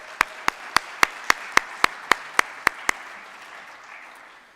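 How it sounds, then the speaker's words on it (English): Eleven sharp, evenly spaced claps ring out at a senior athletics banquet for university students, steady and fairly close, then fade into room ambience. "I want to give everybody a round of applause"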